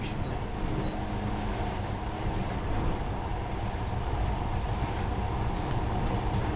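Monorail train ride in the game Metro Last Light, a loud continuous rumbling roar of the rail car in motion, steady and close throughout with no talk.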